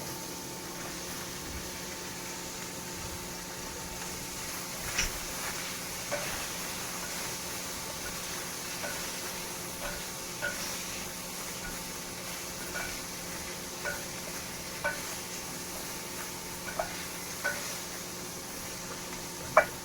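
Cabbage and other vegetables for chicken Manchurian sauté in a pan, a soft, steady sizzle with occasional light clicks of stirring, fairly faint and without talk.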